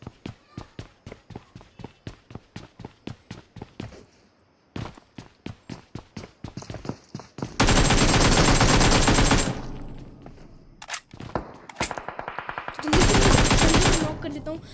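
Gunfire rings out in a shooter video game. A steady run of footsteps comes first, then two loud, sustained automatic bursts with a single shot between them, and no one speaks.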